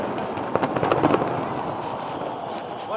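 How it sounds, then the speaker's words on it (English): New Year fireworks over the Burj Al Arab in Dubai crackle and pop in quick irregular bursts over a dense crowd murmur and wind, with people talking nearby. "Fireworks has been started"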